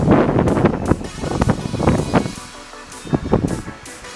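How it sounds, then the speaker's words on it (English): Gusty outdoor wind buffets the microphone in uneven rumbling bursts, rising and falling in strength with brief lulls between gusts. "It's windy."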